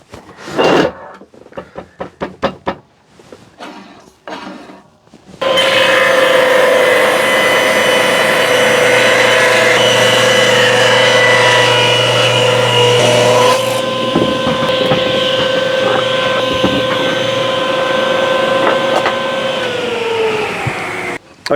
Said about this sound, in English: On to cutting strips.